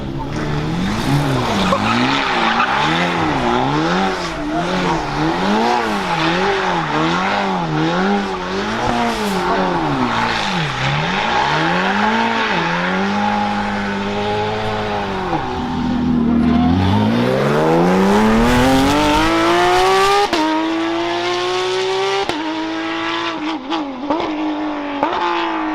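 Porsche GT3 RS race cars at a motorsport event pass close by, engines rising and falling through gear changes with tire squeal and skidding, loud and continuous, then a sharp revving sweep as a pair roars past.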